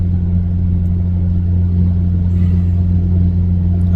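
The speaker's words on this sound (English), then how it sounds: "I'm driving my 2005 Honda Civic Si" A 2005 Honda Civic Si is driven along, its engine a loud, steady low drone heard from inside the cabin, even and unbroken without any revving.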